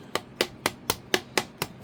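Someone beats on an object with the flat side of a pair of scissors, striking seven sharp, evenly spaced knocks in a quick steady rhythm, close and loud with no talk.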